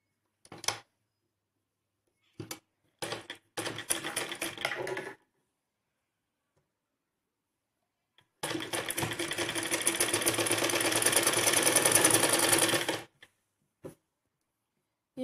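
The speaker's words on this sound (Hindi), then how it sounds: "इसे पलट के इस तरीके से इसके गले पे हम सिलाई लगा देंगे पूरे पे" A sewing machine stitching around the neck of a gown runs in short separate bursts, then in one long steady run of several seconds, close and clear with quiet pauses between.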